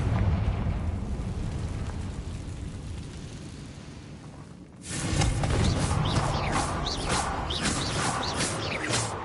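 A Confringo blasting spell goes off in the Hogwarts Legacy video game: a sudden loud fiery blast midway that erupts over a low rumble and keeps crackling with debris and bursts afterward.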